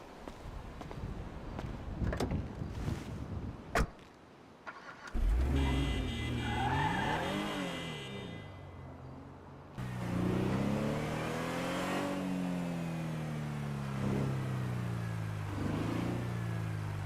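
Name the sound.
car engine revving and driving in a video game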